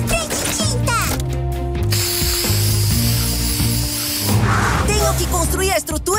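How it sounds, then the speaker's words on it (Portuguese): A spray paint can hisses in short bursts in the Rubble & Crew cartoon, mixed with ratcheting mechanical clicks, a musical score and speech. "Oh, spray de tinta!"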